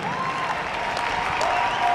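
Audience applause in a large hall at a ballroom dance competition, a steady, fairly loud crowd clapping with a faint tonal music line running underneath.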